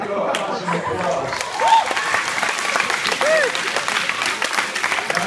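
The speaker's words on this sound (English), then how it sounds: "Awesome applause." Audience applause and cheering at a high school hypnosis show, a dense steady clapping crowd with a few whoops rising above it and voices mixed in.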